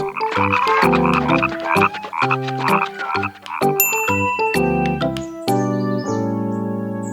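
Loud, rhythmic croaking from several frogs in quick overlapping bursts, joined by bright bell-like dings and chimes.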